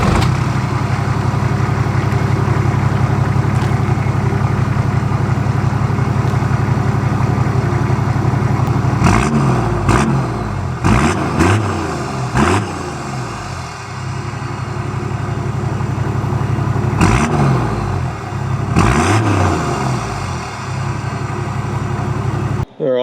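An 80 series four-wheel drive's engine runs steadily at a low idle, close and loud, with a few brief revs and bumps breaking through in the middle and near the end.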